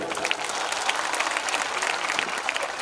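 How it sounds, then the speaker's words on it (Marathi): Steady applause from a crowd at a political rally for the organisers and party workers of Vanchit Bahujan Aghadi, dense clapping held at an even level throughout. "त्यांच्यासाठी एक मोठा टाळ्यांचा गडगडाट होऊन जाऊ"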